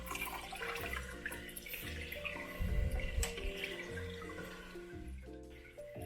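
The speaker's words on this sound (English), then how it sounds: "then I like to fill up the tank" Aquarium tank being filled with RO water from a hose, a steady rushing, gurgling pour of water running without pause, with a louder surge in the middle.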